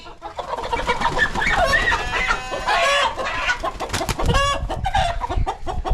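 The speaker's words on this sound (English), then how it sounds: "Rooster number 1, Ransom." A rooster and hens clucking loudly and continuously at close range in a poultry yard, with busy overlapping calls and a brief crow-like rise in the middle.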